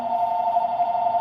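A phone ringing indoors, a loud, steady electronic tone held without a break for the whole short moment.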